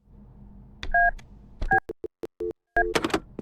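Telephone keypad tones from a broken in-game phone in the horror game Luto, with several short paired-tone beeps and quick clicks, some cutting in and out, over a low background hum.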